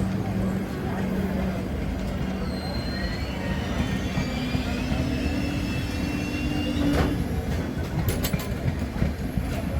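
The Amrapali Express pulls out of Sonipat Junction, a steady rolling rumble with faint wheel clatter and a rising tone under dense station noise, heard at moderate distance throughout.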